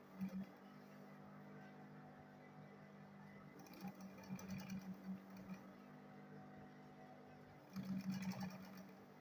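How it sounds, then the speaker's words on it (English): Sewing machine stitching a leather school bag, a steady close motor hum with rapid needle chatter that surges in three louder bursts, the start, middle and end, with no talking. "Now I will sew it straight."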